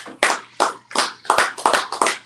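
Slow, deliberate hand claps, about eight distinct loud claps in an uneven rhythm, close to the listener and with brief gaps of quiet between them.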